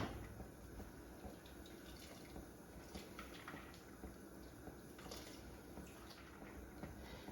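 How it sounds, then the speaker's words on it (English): Boiled kale plunged into an ice-water bath gives steady, faint splashing and running water, close and continuous with small bursts of sloshing throughout. "so I'm just going to take it out and plunge it into an ice bath"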